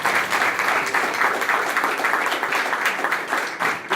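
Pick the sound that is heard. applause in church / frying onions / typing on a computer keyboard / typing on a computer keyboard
applause in church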